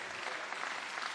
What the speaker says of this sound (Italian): Fate un applauso a questi sindaci